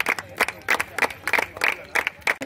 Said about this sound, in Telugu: అంత క్లాప్స్ పెట్టండి